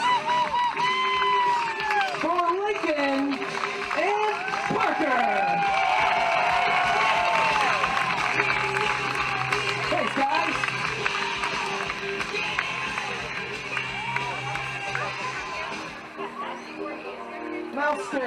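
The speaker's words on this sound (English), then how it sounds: "Ladies and gentlemen, a big round of applause for Lincoln and Parker." A crowd at a water ski team show themed on The Wizard of Oz cheers and shouts with scattered clapping, many voices rising and falling loudly for a long stretch before easing off near the end.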